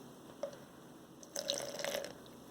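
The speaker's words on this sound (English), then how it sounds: "add a little bit of warm water," Warm water poured into yarn dye powder in a container: a short splash near the start, then a louder burst of running, trickling water lasting about a second, close and alone without talk.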